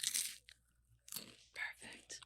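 Cannabis-infused shrimp chips are bitten and chewed up close in an ASMR style, giving several sharp, crisp crunches separated by brief pauses, with soft voice sounds between bites.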